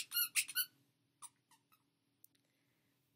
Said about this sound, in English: dogs love squeaky toys.